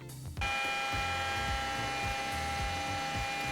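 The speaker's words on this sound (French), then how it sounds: "Ceci est un aspirateur." Vacuum cleaner motor running loud and close in the same room, a steady whining drone with tonal hum that kicks in abruptly and stays constant throughout.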